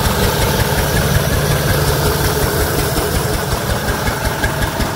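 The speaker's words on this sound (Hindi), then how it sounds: "ये पाइप है गोबर के गैस से, इंजन चल रहा है, और देख लो आटा भी पीसा जा रहा है" A steady, loud engine runs on cow-dung biogas and drives a flour mill grinding wheat flour, with a dense, continuous rumble and knocking throb that persists throughout, with no talking.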